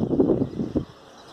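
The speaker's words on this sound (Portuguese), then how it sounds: "Tá um vento bem forte aqui." Strong wind blows across a construction site, a rough low rumble buffeting the microphone for about a second before easing to a softer hiss.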